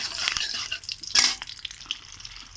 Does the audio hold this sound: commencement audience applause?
no